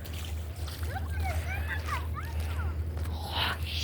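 Feet slosh and splash through deep flood water on Van Giesen Street, a close, continuous watery churning with voices talking over it.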